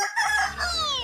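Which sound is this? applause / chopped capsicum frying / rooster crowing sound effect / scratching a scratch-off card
rooster crowing sound effect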